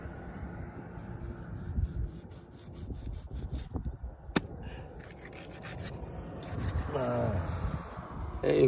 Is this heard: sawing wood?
yes